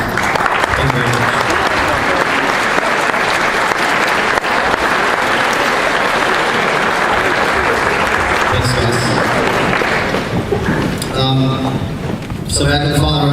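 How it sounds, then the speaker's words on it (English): Sustained loud applause from an audience of students and teachers during a school visit by Senator Carl Levin, steady dense clapping for about ten seconds before tapering, with voices emerging near the end. "teachers would give a round of applause"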